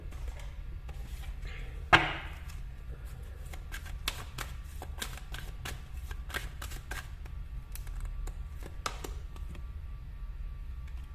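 Tarot cards being shuffled and handled during a reading, giving soft, faint papery riffles and scattered light taps, with one sharper snap near the start, over a steady low background hum.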